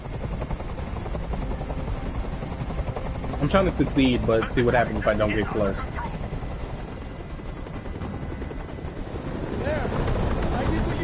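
A hovering helicopter in the video game Detroit: Become Human gives a steady, broad rotor roar throughout, with a voice speaking over it in the middle.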